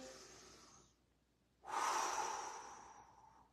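A person breathing during a morning shoulder exercise routine, a soft exhale fading out, a pause, then a strong close breath that slowly tapers off.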